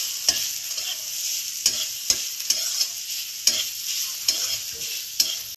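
Carrots and mixed vegetables frying over a low flame in a pan for paneer veg momo filling, a steady sizzle broken by sharp scrapes and knocks of a spoon stirring at irregular intervals, close and alone without talk.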